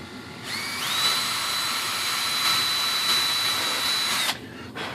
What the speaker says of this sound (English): it's quite a difficult drill, considering it's usually balsa wood you're going through